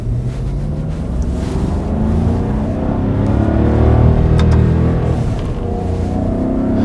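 A 2005 Maserati Quattroporte sedan with a twin-plate dry clutch automated manual gearbox drives along, its engine droning loud and steady with a gradual swell in revs, heard from inside the car.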